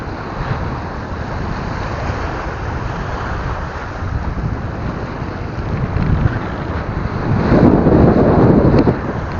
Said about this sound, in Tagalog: Masyadong mahangin mga master.